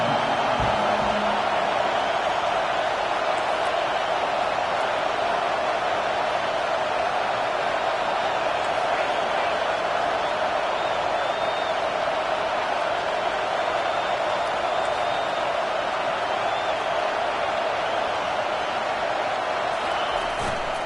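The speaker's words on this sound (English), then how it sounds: "Decibels rising as the crowd gets behind this defense on 3rd down." A football stadium crowd roars behind the home defense on third down, a dense, sustained wall of cheering noise that stays loud and steady throughout.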